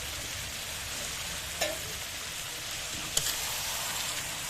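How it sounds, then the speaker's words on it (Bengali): Duck meat frying in a pan with spices while being stirred: a constant, even sizzle with a couple of sharp scraping knocks from the spoon against the pan, no voices. "মশলার সাথে একটু ভালোভাবে নেড়ে দিলাম।"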